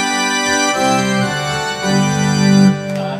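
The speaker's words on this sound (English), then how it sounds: "A pipe organ sound like this" A keyboard's pipe organ voice plays sustained, layered chords that shift slowly and swell louder near the end before fading, with no talking.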